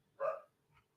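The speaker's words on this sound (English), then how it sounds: "Sorry about the dog." A single close dog bark rings out indoors, followed by a faint short yelp, with no talking.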